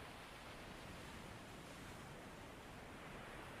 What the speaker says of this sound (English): Pebbles and seashells clatter back into the surf.